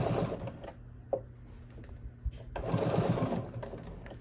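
A sewing machine top stitching around the hood of a geometric hoodie, whirring in short bursts with brief pauses and a few clicks, close up and without speech.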